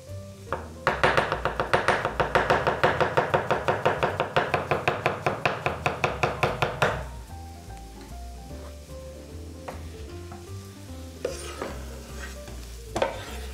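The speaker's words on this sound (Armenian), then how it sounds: "Սա էլ մանր կտրատում" Agaricus mushrooms finely chopped with a knife on a board, a fast even run of about thirty close, sharp chops, followed by quieter scattered taps and a couple of louder knocks.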